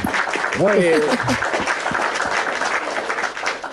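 Audience clapping at a heated talk-show discussion about a convert to Islam, a steady wash of applause throughout, with a voice speaking over it early on.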